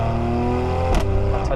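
A Mercedes-AMG C43 4Matic Coupé engine hums steadily at close range, with a brief exhaust blip near the end.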